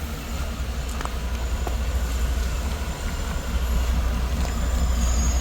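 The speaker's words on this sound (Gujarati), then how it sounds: "ટ્રેન આવી ટ્રેન એકદમ ધીમી ગતિએ આવે છે" A train rolls slowly into a station on the Matheran hill railway with a deep rumble, clanking wheels and occasional metallic squeaks, growing slightly louder toward the end.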